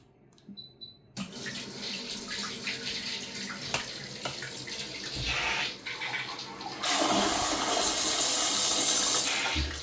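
A Horow HR-T20Y smart bidet toilet flushes with a steady rush of running water that swells into a loud, hissing surge toward the end, close up and with no talking.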